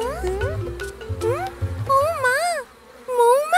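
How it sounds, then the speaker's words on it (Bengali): Cartoon bees buzzing, warbling electronic-style whines that rise and fall in short bursts, loud and close, with a brief pause between them. "মৌমাছি।"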